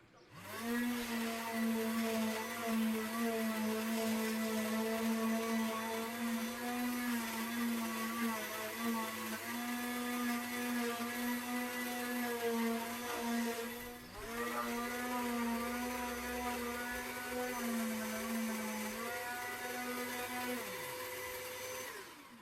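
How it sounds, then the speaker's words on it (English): A loud, steady sander whine with the vacuum-like drone of a connected dust extractor runs continuously, dipping briefly midway before resuming, with no talking. "the new dust collector is triggered by the sander"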